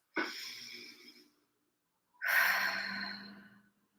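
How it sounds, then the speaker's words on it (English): A deep breath in and a long release, two broad breathy swells in quiet: a first inhale or sigh, a pause, then a longer, fuller exhale trailing off, close and clear with no talking. "Taking a nice big deep inhale and release."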